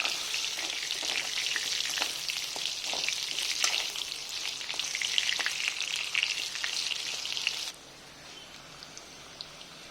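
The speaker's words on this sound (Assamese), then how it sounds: "এতিয়া মই ইয়াত আলুখিনি ফ্ৰাই কৰি ল'ম।" Potato pieces frying in hot oil to brown, producing a dense, steady crackling sizzle with occasional stirring, close by, until the sound drops sharply near the end.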